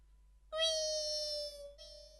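On a Malayalam comedy stage, a performer imitates a cat meowing while fish is being cut: one close, drawn-out meow, then a shorter second meow, with nothing else behind it.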